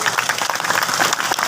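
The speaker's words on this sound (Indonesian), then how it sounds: "Gak usah tepuk tangan kok" Audience applause at an Islamic sermon by KH. Anwar Zahid in Suka Mulya, Siak, Riau: dense, steady clapping from a crowd filling the whole short stretch without a break.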